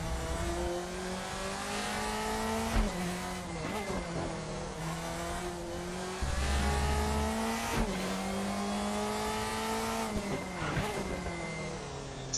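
A 2005 Mercedes DTM race car in a racing video game at the Nordschleife screams at high revs, its loud engine tone climbing and dropping sharply through repeated gear changes with no break.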